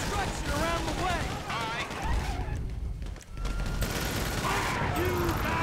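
Gunfire in the Grand Theft Auto V heist setup mission Paleto Score Setup: dense, sustained bursts of shots and rattling weapons fill the background while a voice talks over them throughout.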